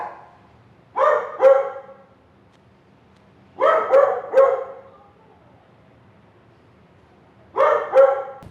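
Dogs at a kennel let out three separate bursts of barking, each a quick cluster of two or three barks with quiet gaps between, somewhat distant and without talk.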